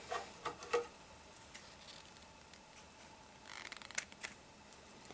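Scissors snip a very short candle wick on a homemade soda-can candle, giving a few faint, quiet clicks and crunches spread over a few seconds against a low background hiss.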